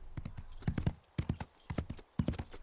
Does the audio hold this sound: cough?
no